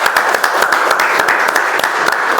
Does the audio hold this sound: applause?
yes